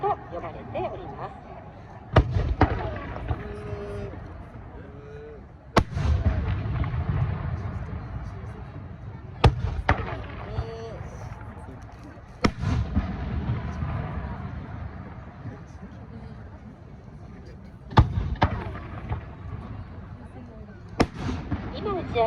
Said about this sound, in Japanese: このような花火はヤシと呼ばれております。